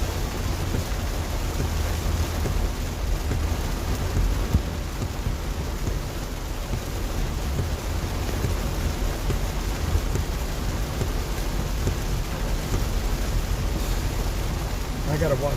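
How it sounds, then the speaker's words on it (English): Heavy rain pours down steadily in the Central Texas Hill Country during flooding, a dense continuous roar of drops with a deep low rumble underneath, loud and close throughout. "This is about how hard it was raining the other night."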